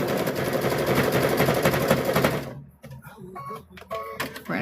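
A sewing machine stitches quilt binding with a fast, loud mechanical chatter for a couple of seconds, then stops abruptly. Quieter clicks and handling sounds follow.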